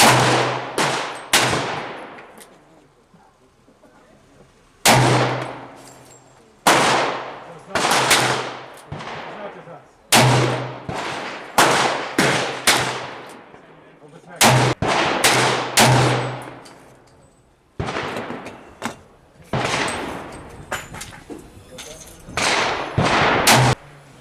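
Loud pistol shots from a .40 S&W firing 170-grain powder-coated cast bullets over 5.9 grains of Alliant Power Pistol at an outdoor range, a dozen or more sharp cracks fired in quick clusters with short pauses between groups.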